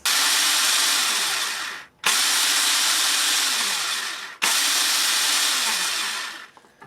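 A Ryobi 18V ONE+ outdoor surface cleaner runs on a Makita battery, a loud steady motor whine with rushing air that cuts out twice and spins back up, then winds down at the end.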